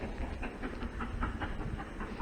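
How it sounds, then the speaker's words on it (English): A steam train rumbles steadily along the railway line with a faint rhythmic clatter and hiss, heard from a distance in the open air in rural Norfolk. "it must be a steam train going along the"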